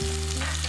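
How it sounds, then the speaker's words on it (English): Sliced onions and crushed red pepper sizzle steadily as they are stirred into a hot frying pan, a close, continuous frying hiss with a low hum beneath. "Put those all in, stir them in."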